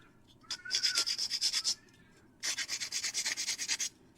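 A firm pad loaded with 80 grit sandpaper scrubs a part for a Glaug pod build in two close bursts of quick rhythmic back-and-forth strokes separated by a short pause.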